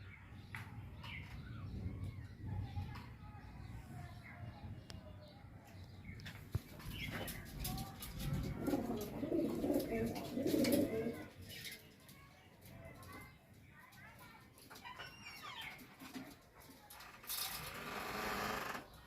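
Kaldumma high-flyer pigeons coo in soft, repeated low murmurs that swell midway, mixed into a busy loft scene with people talking nearby throughout.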